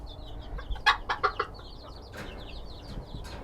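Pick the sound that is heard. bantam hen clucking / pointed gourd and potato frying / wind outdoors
bantam hen clucking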